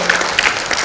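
An audience at a fine dining industry talk breaks into applause, a brief, loud burst of many hands clapping with a faint murmur of the crowd underneath.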